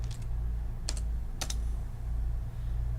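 A password is typed on a computer keyboard as a few sparse, crisp key clicks, close and isolated over a steady low hum.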